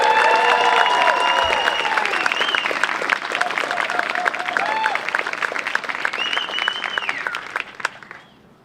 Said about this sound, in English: How about one more round of applause for the Bowditch team students?